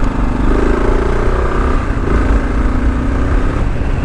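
A 2023 Kawasaki KLR 650 motorcycle engine on stock tires responds to the throttle while riding over sand, giving a loud, steady, close drone with slight rises and falls.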